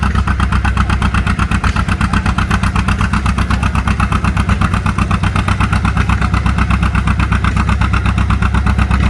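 An old Farmall or John Deere tractor engine chugs loudly and close during a tractor pull, with a steady, rapid, even exhaust beat throughout and no voices.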